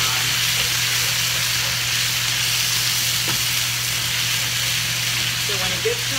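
Chicken sizzles in olive oil in a pan as it is stirred, a loud constant fry with occasional light scrapes and clinks of the utensil.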